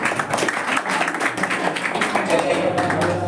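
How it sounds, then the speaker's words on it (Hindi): Students and teachers clap for a student called to the stage at a school Republic Day celebration; dense, steady applause runs throughout the short clip, with a voice faintly under it. "जोरदार तालियां हो जाए मुस्कान यादव के लिए"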